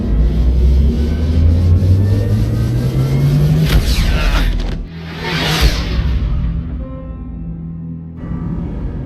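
A starship drive in Mass Effect engages with a rising engine tone that climbs steadily, then a sharp whoosh and a second swelling rush as the ship accelerates, ending in a quieter hum.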